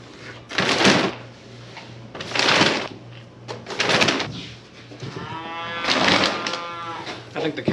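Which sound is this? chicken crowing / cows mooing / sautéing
cows mooing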